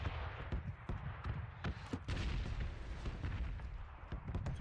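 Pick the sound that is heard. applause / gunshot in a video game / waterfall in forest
gunshot in a video game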